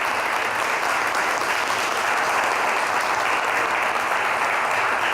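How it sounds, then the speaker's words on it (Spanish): Dense, sustained audience applause at a forum on Argentina's 2019 elections, loud and even from start to finish, a full room of people clapping without pause. "les pido un aplauso para los tres"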